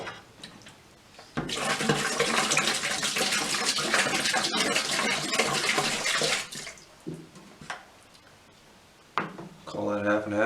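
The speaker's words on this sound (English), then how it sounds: "Go ahead and pour some of this in the bucket." Denatured alcohol pours into a bucket of water in a rushing, gushing stream for several seconds, then tapers into small splashes and movement, with a brief voice near the end.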